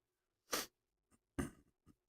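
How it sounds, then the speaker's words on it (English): Quiet nasal sniffing from a person with a runny nose, heard at a live baseball card box break: two distinct short sniffs, each followed by a fainter one, with no talking. "sorry about my constant sniffing."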